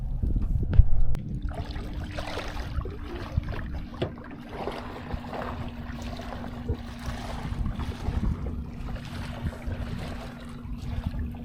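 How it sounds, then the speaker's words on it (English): A pontoon boat's steady low engine hum drifts across open water, constant and moderately distant, with wind and light lapping waves around it. "There's a pontoon boat coming."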